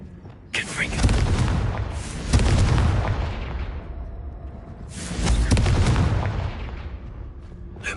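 Fire spell explosions from the Hogwarts Legacy video game, two loud booming blasts with crackling, rumbling tails a few seconds apart, heard alone without speech.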